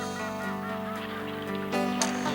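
Mallard ducks call while flying in on the wind, giving faint, distant honking quacks that repeat over a soft background.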